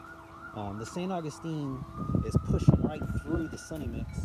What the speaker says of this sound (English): excuse the sirens, all day, every day